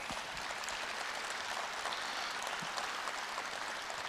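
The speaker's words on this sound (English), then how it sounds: "Give them all of a round of applause if you wouldn't mind." Steady audience applause at an Indigenous clean energy forum sounds from a large room, fairly faint and even throughout without pause.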